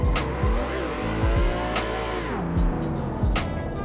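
A car drifting in the racing game Assetto Corsa using clutch kicking: a revving engine rises and falls while tires squeal in repeated bursts, loud and close, with no voices.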